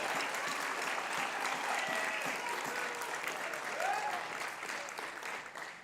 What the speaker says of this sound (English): One more round of applause, class of 22.